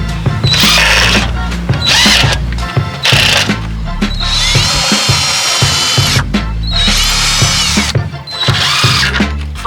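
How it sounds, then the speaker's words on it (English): A power drill whines loudly in repeated bursts of a few seconds each, with short pauses between, close by while building a DIY SUV camper conversion. "Let's drill."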